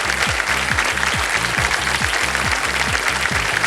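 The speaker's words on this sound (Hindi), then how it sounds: "ताली बजी।" Studio audience applause on a quiz show, a steady wash of clapping under a repeating rhythmic musical sting with pulsing low beats.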